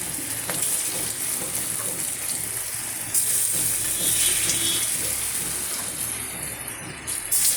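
Vegetarian food frying in hot oil in a home kitchen, a steady close sizzle and crackle with a brief louder surge midway, heard alone without talk.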